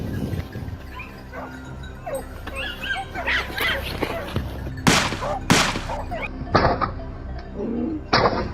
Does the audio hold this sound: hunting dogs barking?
yes